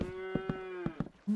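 A Minecraft cow gives a long, close, tonal moo, a clear drawn-out low call with a short second moo starting at the very end, and no talking over it.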